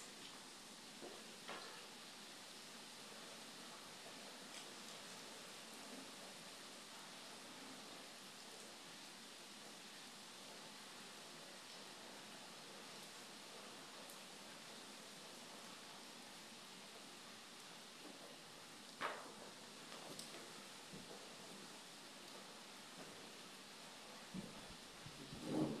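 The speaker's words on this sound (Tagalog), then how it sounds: "Umuulan po, umuulan." Steady rain falls as a continuous, even wash of noise, with a couple of brief louder spatters near the end and no voices.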